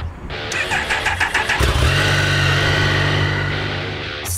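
A motorcycle engine cranks over with a rapid stuttering burst, catches, and settles into a loud, steady, close-up idle that runs on alone for several seconds.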